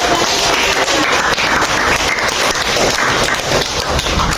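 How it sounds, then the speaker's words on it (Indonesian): A class of students applauds, dense, steady clapping from many hands that fills the room loudly and close for several seconds without a break. "Oke, kasih aplaus meriah."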